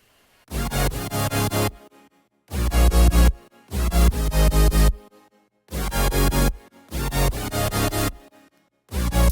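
Big layered future bass synth chords hit in loud, sustained bursts with short silent gaps between, a thick full-range electronic drop with rhythmic stabs.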